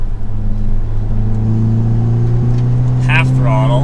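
An Audi S3 with an AWE catback exhaust pulls in third gear, its steady engine drone climbing in pitch from inside the cabin, with a person talking over it near the end.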